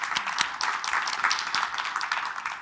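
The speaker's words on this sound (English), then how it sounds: "So, yeah, clap for that." A conference audience applauds after a talk on children's voices and advocacy, a moderate, steady patter of many hands clapping close by.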